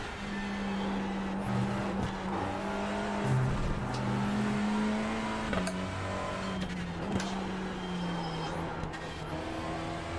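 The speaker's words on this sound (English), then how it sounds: "you shouldn't hear a lot more of the audio of the car" Race car engine in the iRacing sim game drones steadily at sustained revs, with shifts and brief dips as the car brakes and accelerates through corners, fairly loud and continuous without talking.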